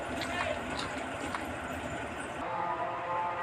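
A train rolls along in the horror game Granny 3, giving a continuous low rumble with faint clatter at modest level, plus a few brief tonal blips.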